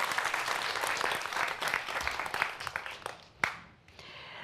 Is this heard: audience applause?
yes